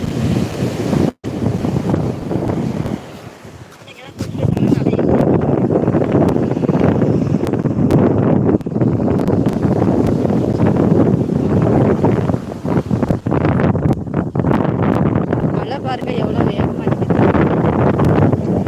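Sea waves roll in at a hometown beach with strong wind buffeting the microphone, making a loud continuous roar that drops briefly near the start and then holds steady.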